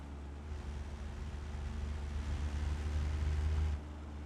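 Rumbly three-cylinder car engine in the BeamNG driving game, a steady low drone that rises slightly in intensity midway and then drops back, heard alone.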